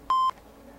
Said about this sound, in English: I just got 2 beep,